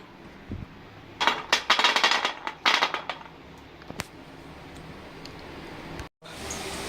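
Fried seedai balls clatter onto a plate in a quick burst of hard, rattling clinks over about two seconds, followed by a lone tap, then near-quiet.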